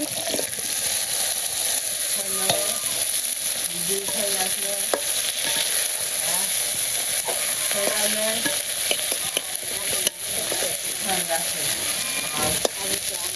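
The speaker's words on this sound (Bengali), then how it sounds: "আমার মাছ প্রায় ভাজা হয়ে গেছে, পেঁয়াজগুলো দিয়ে দিই।" Fish frying in oil in a pan with onions added gives a loud, steady sizzle close up, while faint frog calls croak in the background throughout.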